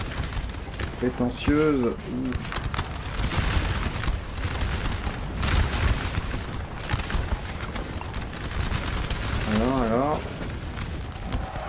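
Musket infantry firing lines in the Napoleon: Total War video game crackle in ragged volleys throughout, with booming reports under someone talking in French.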